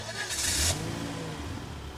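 A pickup truck in a video game pulls away, its engine revving briefly then settling into a steady, moderate drive-off rumble with no talk over it.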